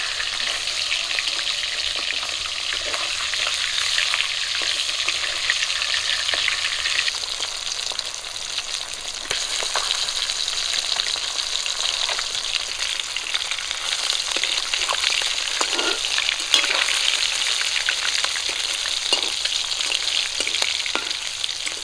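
Folli fish from the river frying a few pieces at a time in hot oil in a pan, a steady dense sizzle with crackling pops and occasional stirring or turning, close and continuous, no talking.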